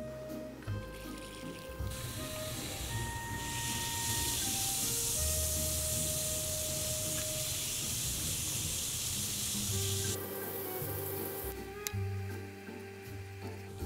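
A Grossery Gang fizzing toilet toy loaded with water hisses and sizzles steadily up close, a soft carbonated fizz with faint drips that fades near the end.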